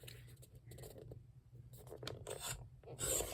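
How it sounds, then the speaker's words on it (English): Scissors trimming a paper library pocket for a budget journal, faint close scratchy rasps and snips in short uneven strokes, a little louder at the end. "I'm going to trim off just a little bit."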